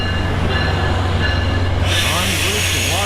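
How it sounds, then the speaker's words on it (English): Fredericksburg Line train 314 pulls into a station near Washington, a loud, close rumble of rolling railcars with high metallic wheel squeal, and a voice faintly underneath. "And speaking of Fredericksburg Line Train 314, here it comes now."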